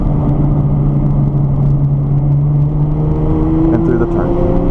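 From inside a Nissan GT-R on its first outing at a race track: a loud, close engine drones with a rising pitch as it accelerates, its rumble steady under a voice talking.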